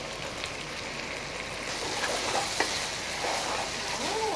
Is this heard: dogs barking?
no